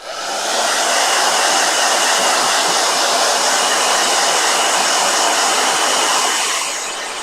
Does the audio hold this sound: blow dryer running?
yes